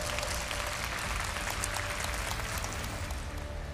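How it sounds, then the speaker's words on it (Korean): A Korean TV singing show's studio audience gives sustained applause for three finalists, a thick, even wash of clapping heard at moderate distance with a faint steady tone underneath. "긴 여정을 끝까지 함께 우리 세 분께 다시 한번 큰 박수 부탁드리겠습니다"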